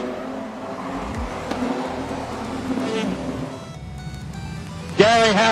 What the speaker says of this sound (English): We'll just let these cars roll by.